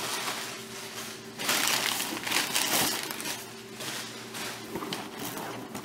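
Recyclable paper packing material from a grocery delivery box is handled, giving bursts of dry crinkling and crushing that swell loudly midway, close to the mic with no talking.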